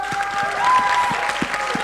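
A hall audience at a live show applauds steadily, with distinct individual claps standing out over a continuous wash of clapping at moderate loudness.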